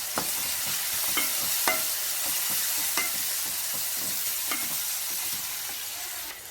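Onions and turmeric sizzle steadily in a pan, a loud continuous frying hiss broken by several soft stirring scrapes, with no voices.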